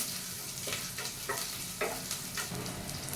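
Sliced shallots sizzling in hot oil in a pan for a banana blossom stir-fry, a steady close frying hiss with soft stirring scrapes at intervals.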